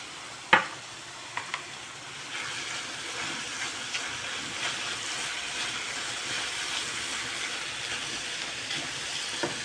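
Chicken, mushrooms and spinach sizzle and simmer steadily in a pan, with a sharp utensil clink near the start and a few light stirring knocks over a continuous close frying hiss.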